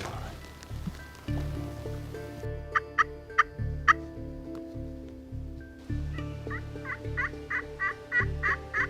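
Wild turkeys gobble in a rapid rattling burst, then another volley of several gobbles, moderately near, over steady outdoor rain or running-water noise.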